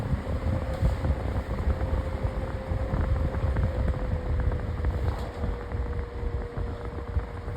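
An antique electric fan runs on medium speed, giving a steady, broad whooshing rush of air with a faint motor hum, close and continuous without pause.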